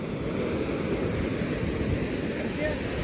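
Sea waves break steadily at the shore in Diu, a continuous low rushing roar mixed with wind buffeting the microphone, loud and close, with no distinct breaks between surges.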